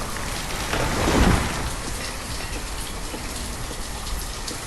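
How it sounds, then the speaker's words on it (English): Steady rain with a stormy edge from the Banished video game, a dense broadband hiss throughout with a brief rumbling swell near the start, no speech. "It's a little rainy, a little stormy"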